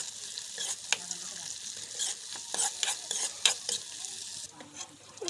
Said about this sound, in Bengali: এখন দিয়ে দিচ্ছি পেঁয়াজ কাঁচামরিচ কুচি